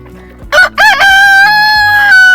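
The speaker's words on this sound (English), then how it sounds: "He crow." A rooster lets out a loud, close cock-a-doodle-doo: two sharp opening notes followed by a long, drawn-out held tone, with soft background noise underneath.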